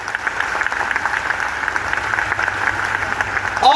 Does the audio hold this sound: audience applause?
yes